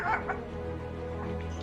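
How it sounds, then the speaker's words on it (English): Dogs give a couple of quick yips and barks at the start, then fade into a low, steady background hum. "there go my dogs"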